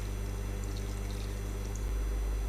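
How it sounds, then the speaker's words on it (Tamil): Water poured into a pan of chicken and potato curry for a Tamil-style gravy, a steady close pouring rush held at a constant level for a couple of seconds. "இதில் மூழ்கிற அளவுக்கு தண்ணி ஊற்றிக்கோங்க."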